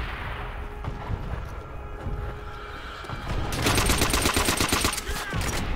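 Assault rifle fire in World at War starts after a stretch of quieter combat ambience, turning into a loud, rapid burst of automatic shots that rattles on for about two seconds.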